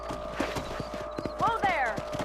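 Horses clip-clop at a quick trot in Red Dead Redemption 2, and a short whinny follows partway through, all under game noise.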